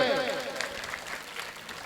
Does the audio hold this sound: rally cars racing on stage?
no